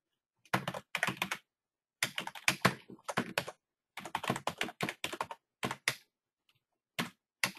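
Typing on a computer keyboard to enter a page name, in several quick bursts of close, crisp key taps separated by short pauses.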